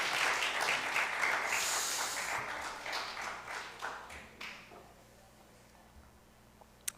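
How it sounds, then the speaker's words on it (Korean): A church congregation at a Korean Presbyterian Sunday service applauds, loud clapping at first that thins out and fades to near quiet by the end, with a single sharp tap at the close. "큰 박수 다시 한번 부탁드립니다."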